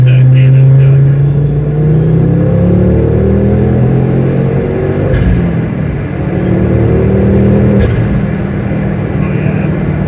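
A Ford Focus ST MK2 with a Dreamscience Mod X engine accelerates in third gear, a loud, steady, close engine drone rising in pitch throughout, with faint talk underneath.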